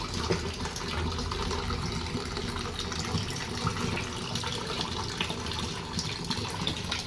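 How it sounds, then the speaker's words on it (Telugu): Kangen 9.5 water runs from a Kangen filter into a bottle, a soft, steady trickle and patter of liquid that continues evenly at low volume with no talking. "కెంగన్ నైన్ పాయింట్ ఫైవ్ వాటరు ఒక రెండు లీటర్లు మళ్ళీ పట్టుకోవాలి"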